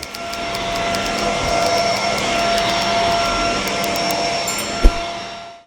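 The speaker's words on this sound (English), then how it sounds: "The first thing that we need to do is just vacuum up the carpet and get all of the junk off of it" Vacuum cleaner running over carpet, a loud steady motor whine and rushing airflow held close throughout, with one brief bump near the end as the machine winds down.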